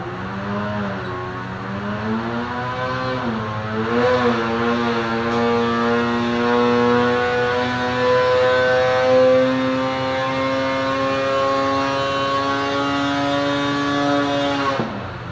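A high-compression Polaris 850 Axys two-stroke snowmobile engine with a Stage 2 kit, running on race gas on a dyno, holds a loud, sustained wail whose pitch dips briefly and then climbs steadily through a long pull before cutting off.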